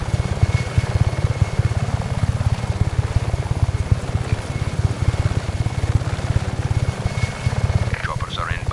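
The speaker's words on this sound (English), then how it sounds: "Choppers are inbound." Helicopter rotors thudding in the video game Just Cause 3, a fast steady low chop that stays loud and close throughout, with a faint whine above it.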